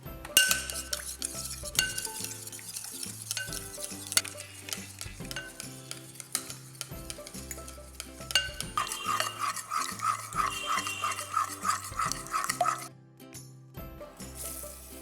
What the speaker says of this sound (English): whisk it well